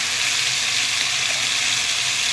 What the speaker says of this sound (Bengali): এই তেলের মধ্যে কালো জিরা ফোড়ন দিয়ে দিলাম, আর দিয়ে দিলাম জিরে লঙ্কা বাটা